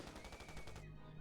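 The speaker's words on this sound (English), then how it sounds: "Gunfire and screams echoed from the back of the train." Rapid bursts of machine-gun fire rattle aboard a train in the video game 428: Shibuya Scramble, a dense rhythmic volley that cuts off abruptly near the end, leaving a faint tonal hum behind.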